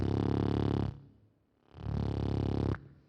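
A man imitates a motorbike or car engine by buzzing his lips, making two sustained, loud rumbling bursts separated by a short pause.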